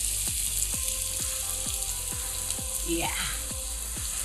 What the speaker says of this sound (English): So my oil is nice and hot. I'm adding in my peppers and onions.